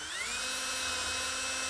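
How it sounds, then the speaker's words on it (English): A power drill bores through a swing door's strike jamb and wall jamb, a steady high-pitched whine rising briefly in pitch at the start then holding constant, close and alone. "I'm going to drill. And make sure you're going both through your strike jamb and the wall jamb."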